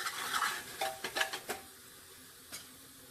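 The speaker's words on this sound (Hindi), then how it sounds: "इसे हम मिक्स कर लेंगे और" A spoon scraping and clinking in a pot as red chilli, turmeric and coriander powder are mixed for bottle gourd curry, giving a soft scrape followed by a few sharp metallic taps, then a last isolated clink, quiet and close.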